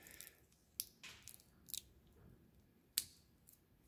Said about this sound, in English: use a pair of scissors here to just make sure you're not cutting through any wires here